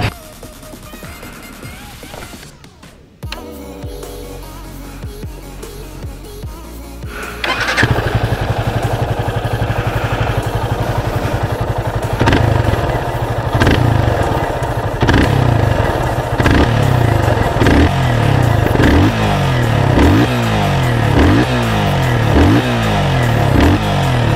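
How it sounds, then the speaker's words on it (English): A 2017 Yamaha FZ25 motorcycle cranks and fires up, settles into a deep idle, then its exhaust revs up again and again in rising, rhythmic bursts nearby. "The exhaust note is quite good."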